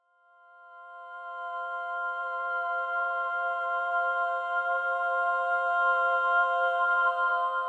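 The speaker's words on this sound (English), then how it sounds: "The sound you're hearing here is the Soprano Textures main vibrato patch." A synthesized soprano lead from the Soprano Textures main vibrato patch swells in softly and holds one sustained tone with gentle vibrato, clean and alone throughout.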